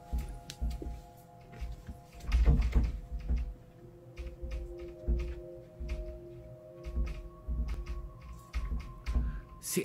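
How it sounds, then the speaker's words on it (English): A door rattles in a tense horror video game, with repeated sharp knocks and clattering bursts over a low droning ambience, loud and close, some hits clustered and others spaced out. "The door's rattling."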